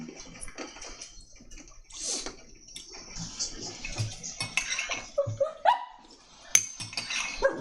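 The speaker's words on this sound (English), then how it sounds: "Why does he keep barking?" A dog barks indoors in a scattered, irregular way, the barks mixed with household clatter and a faint trickle of water, nearby and moderately loud.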